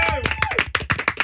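Hand clapping from a few people in a radio studio during a chat with a singer, quick uneven claps over about a second, mixed with talking and laughter.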